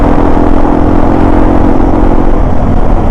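Yamaha TW200 motorcycle fitted with an FMF Powercore 3 exhaust, running at a steady, loud, dense engine drone throughout with no distinct revs or pauses, heard close and alone.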